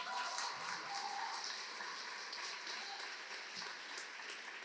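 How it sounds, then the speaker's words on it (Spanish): Applause from a church congregation welcoming a pastor to preach, a dense steady patter of many hands that holds for several seconds at moderate distance, with scattered cheers faintly mixed in and no speech. "así que démosle un fuerte aplauso."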